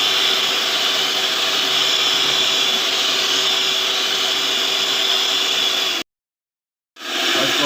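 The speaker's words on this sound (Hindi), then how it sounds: "इसको बीट करना है" Electric mixer beating plain tea cake batter with vanilla essence, a loud steady whirring drone that cuts off abruptly for about a second and then starts again.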